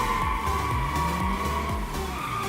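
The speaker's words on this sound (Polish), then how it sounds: "ładny drift." A car in a video game drifts with its tires skidding, a loud, steady engine tone under repeated sweeping tire squeals close up, with no talking.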